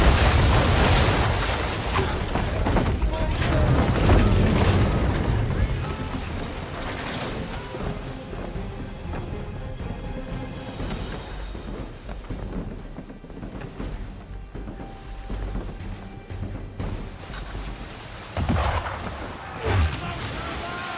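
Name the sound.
ship cannon fire, Assassin's Creed III video game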